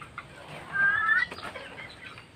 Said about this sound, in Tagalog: May mga manok yan,